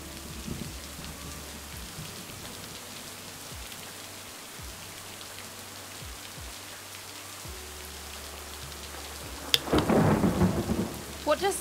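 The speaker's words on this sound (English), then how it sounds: "We're standing outside of a storm." A thunderstorm with rain in a video game, a soft, steady patter of rain under a low rumble, then a loud crack and roll of thunder near the end.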